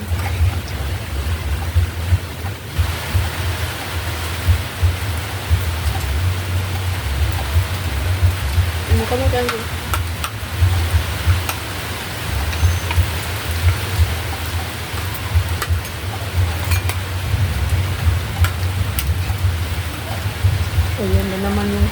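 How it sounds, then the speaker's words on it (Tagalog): Heavy rain pours steadily as a broad, constant hiss throughout, with a person speaking briefly under it near the end. "Ayan, lumakas na yung ulan. Sarap pakinggan pag ganito."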